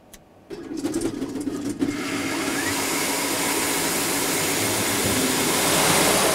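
A banknote sorting machine feeding notes one by one at 1800 per minute spins up after a few clicks into a loud, steady rushing whir that holds to the end.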